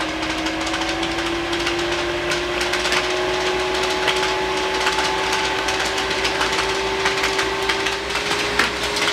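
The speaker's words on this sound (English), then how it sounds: "within milliseconds I can hear the fan winding up" An 8 inch Phresh Hyper Fan inline duct fan runs at 50% speed, giving a steady, loud whirring drone with a sustained tonal whine and airy rush, continuous and close with no talk.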